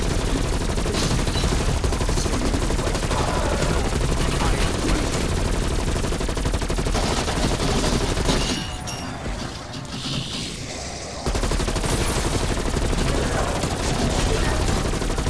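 Gunfire in Call of Duty: Black Ops Cold War, dense continuous automatic fire and clatter, loud and close, dropping away briefly before resuming, with a voice faintly underneath.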